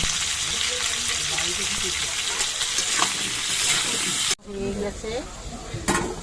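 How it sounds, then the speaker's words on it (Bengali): Potatoes fry in hot oil with a dense, loud sizzle and stirring scrapes, while a voice talks faintly underneath. "তেলটা গরম হয়ে যাওয়ার পর এবার এর মধ্যে আলুগুলোকে ভেজে নিচ্ছে"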